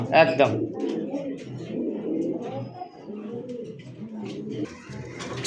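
A pair of German pigeons coo in low, throaty, repeated rolls, close and continuous, with a brief sharper flutter or call at the start and faint higher chirps around them.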